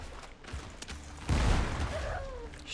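Gunfire from the video game Windrose, a brief burst with a heavy low-end boom midway through, sounding close and moderately loud against a short stretch of quieter ambient game sound.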